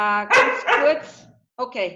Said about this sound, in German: Sie hören jetzt meinen Hund im Hintergrund.